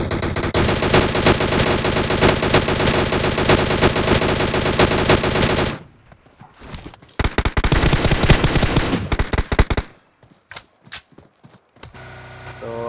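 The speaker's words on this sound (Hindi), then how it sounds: "शॉट्स तो आ रहा है टीम 5 की तरफ से" Rapid automatic gunfire from PUBG Mobile gameplay rattles loudly in long sustained bursts, then breaks into shorter volleys and scattered single shots, with no talk over it.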